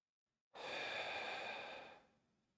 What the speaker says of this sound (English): let's take a breath in